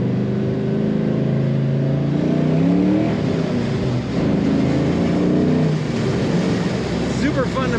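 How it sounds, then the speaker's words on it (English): A 1978 Chevrolet El Camino restomod revs as the throttle is mashed, its engine surging and rising in pitch in loud waves, with someone talking over it. "Super fun to mash the throttle in this car."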